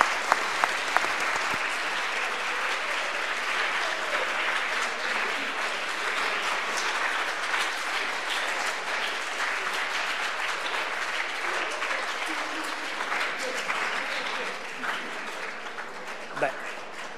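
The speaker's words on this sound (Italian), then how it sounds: "facciamo un altro applauso" A seated audience at a live-streamed talk breaks into long, steady applause, a dense even patter that holds for many seconds at moderate distance before thinning slightly near the end, with a few voices faintly underneath.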